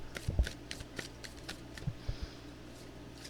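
A tarot card deck being shuffled by hand: quick papery riffles and soft slaps in short irregular bursts, close and fairly quiet, with no voices.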